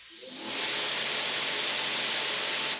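A Greenworks 60V hybrid pressure washer with a 40-degree nozzle sprays water as a loud, steady, close hiss that swells in quickly, holds evenly and cuts off sharply at the end.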